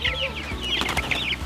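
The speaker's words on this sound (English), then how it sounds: "Now, does he scare our chickens?" Backyard chickens cluck and murmur up close in a steady, overlapping chatter of short calls with no talking.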